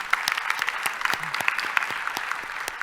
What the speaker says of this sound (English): please, one final round of applause for Peggy Hellweg and our 2023 honorees